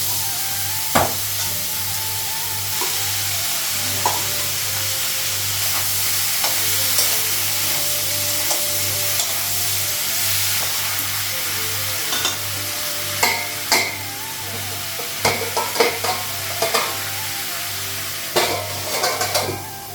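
Onion and vegetables frying in a pan give a continuous loud sizzle, with scraping and clinking stirring strokes that grow more frequent toward the end, close up.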